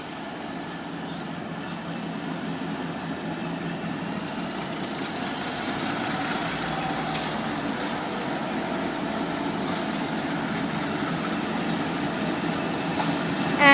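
GML 10 locomotive leads a train at Roxburgh Park in Melbourne, heard as a steady low rumble of engine and rolling wagons that slowly grows louder, with a brief high squeal partway through.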